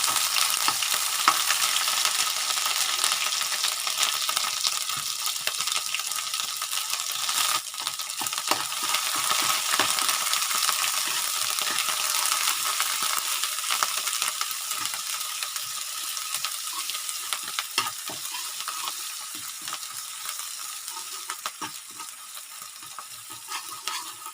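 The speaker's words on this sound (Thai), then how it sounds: "เราจะเติมน้ำมันลงไปนะคะ จะใส่น้ำพริกแกงแดงลงไปผัดนะคะ เราจะผัดน้ำพริกให้หอมก่อนนะคะ" Red curry paste frying in hot oil in a pan, a continuous dense sizzle with faint scraping of stirring running through it, steady and close with no voices.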